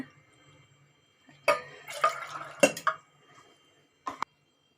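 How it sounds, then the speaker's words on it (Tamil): Three cups of water are poured into a pot of chickpeas, giving a few short, close splashing bursts separated by quiet gaps. "இப்போ நான் தண்ணி இதில் மூணு கப் வச்சுக்கிறேங்க"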